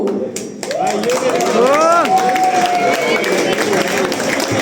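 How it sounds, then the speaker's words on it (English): A crowd claps and cheers loudly at a hackathon grand finale prize distribution, sustained dense applause with whoops and shouting voices rising over it throughout. "A big round of applause for the Debugging Duo, everyone."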